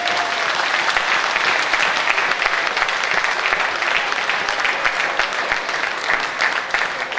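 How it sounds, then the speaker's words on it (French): An audience at a gathering in the DRC gives the prime minister an ovation, loud sustained clapping with crisp hand strikes that continues evenly throughout. "Vous puissiez être ovationné des applaudissements"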